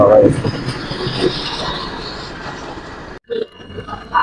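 The Rupsha Express rolls into a station with a broad, steady rumble of rail noise that fades, then briefly drops out. A voice talks over it near the start.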